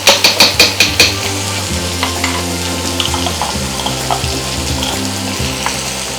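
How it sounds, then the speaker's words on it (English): Chorizo mixture with chipotle paste sizzles loudly in a pan, opening with a quick run of six sharp taps and then continuing with steady scraping stirs over the frying, with music in the background. "And just mix it all together."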